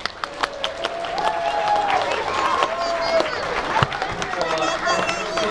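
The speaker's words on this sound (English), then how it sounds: "Get another round of applause for" Crowd applause and clapping at a 2012 El Mirage Grinch event, a steady dense patter over chatter and voices, with a few sharper claps standing out.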